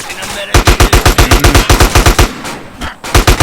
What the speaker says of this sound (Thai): ยิงไม่ยั้งเลย